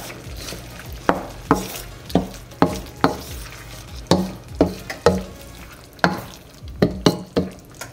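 Bagoong shrimp paste is stirred in a pan over low to medium heat, with repeated uneven scraping strokes of a utensil against the pan over a faint sizzle, close and alone.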